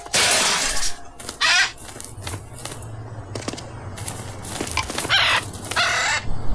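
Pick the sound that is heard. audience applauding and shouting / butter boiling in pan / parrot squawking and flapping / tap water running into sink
parrot squawking and flapping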